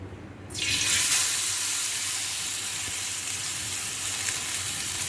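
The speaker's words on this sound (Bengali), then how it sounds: "তেলটা গরম হয়ে গেছে, আর এখানটায় মাছ রেডি করা আছে। এক একটা করে মাছ দিয়ে দিই আমি।" Pieces of fish dropped into hot oil in a home kitchen for fish curry, erupting into a sudden loud, close sizzle that settles into a steady hissing fry.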